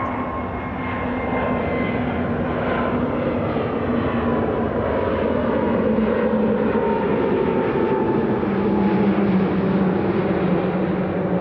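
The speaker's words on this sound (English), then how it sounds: "777 just starting to roll" A Boeing 777 starts its takeoff roll at Toronto Pearson airport, its engines giving a steady, loud, rising roar with a sustained whine, heard continuously from a distance.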